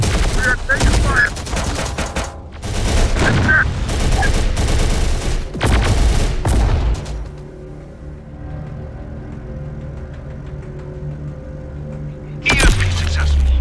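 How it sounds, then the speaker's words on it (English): Gunfire in the video game Terminator: Dark Fate - Defiance, with loud rapid bursts and automatic fire over several seconds, then a quieter stretch and one last loud burst. "We are taking fire."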